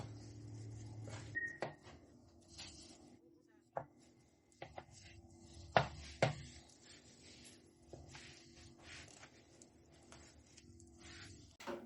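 Knife chopping shredded leftover fried chicken into small bits on a board, a loose series of close, sharp thuds and clacks at uneven intervals, with quiet handling sounds between strikes.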